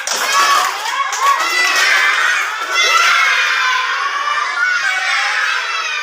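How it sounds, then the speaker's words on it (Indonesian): Schoolchildren in a classroom shouting a spirited clapping chant together, energetic group voices with rhythmic hand claps, loud and close throughout. "Ayo, tepuk semangat."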